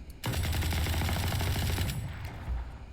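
An Ares machine gun in Valorant fires a long, rapid, loud burst for nearly two seconds, then cuts off into fading echoes and a low thump.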